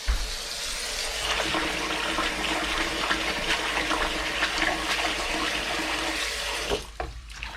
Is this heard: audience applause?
no